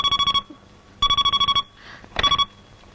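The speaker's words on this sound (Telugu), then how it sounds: "ఈ ఫోన్ నాకు డాడీ." A telephone rings loudly and close in three separate bursts of rapid electronic trilling, with short pauses between the rings.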